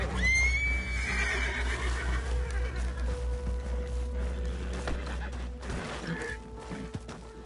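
A horse whinnies loudly at the start in Red Dead Redemption 2, followed by busy game noise and scattered clatter and thuds that carry on steadily without speech.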